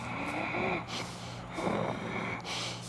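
Deep diaphragmatic breathing during a jiu-jitsu breathing exercise, lying down: slow, audible inhales and exhales in a few cycles, close and fairly quiet, with no talking.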